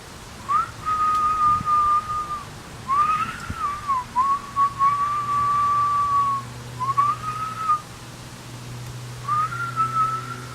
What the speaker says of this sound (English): I can still whistle.